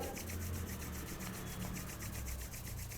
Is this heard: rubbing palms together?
yes